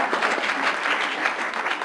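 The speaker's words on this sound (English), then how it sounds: "Just one big round of applause for all the CHNA work that's happening here in the Southeast region." Audience at a regional community health conference applauds steadily, a dense patter of clapping from a roomful of people that continues evenly throughout.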